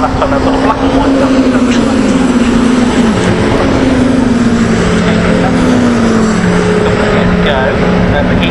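Caterham Seven 310R race cars at Castle Combe circuit, engines droning steadily with a rising and falling pitch as they pass, a loud continuous roar under a commentator's voice.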